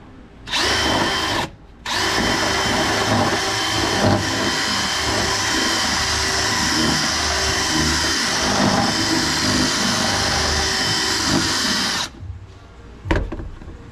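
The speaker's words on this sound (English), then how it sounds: "I'm just slowly grinding it so I can make it bigger, so this insert nut can fit smoothly." A power tool grinds out a hole to fit an insert nut on a turbo B-series EK coupe part, a loud, steady high-pitched whine held for about ten seconds after a short burst and pause.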